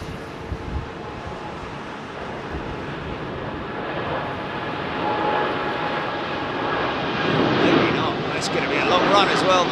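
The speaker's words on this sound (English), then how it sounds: "Long takeoff run normally for the 787." A Boeing 787 on a long takeoff run at Heathrow runway 27R, its engines a broad, steady roar that swells gradually as it accelerates, with voices talking over the top throughout.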